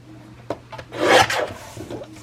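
Paper being cut from a book page to make a tag, a short scraping rasp swelling to a loud burst in the middle, with softer rubbing strokes before and after.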